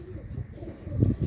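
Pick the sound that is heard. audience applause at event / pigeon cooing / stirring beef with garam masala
pigeon cooing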